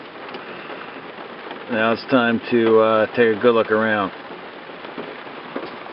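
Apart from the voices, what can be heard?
pouring rain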